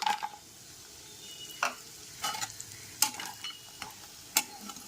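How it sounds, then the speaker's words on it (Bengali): Lentil dumplings (bori) frying in oil left over from frying fish: a low, steady sizzle runs under repeated sharp scraping and stirring strokes from a utensil against the pan, and no one speaks. "মাছ ভাজার ওই একই তেলের ভিতরে বড়িগুলোকে দিয়ে দিলাম"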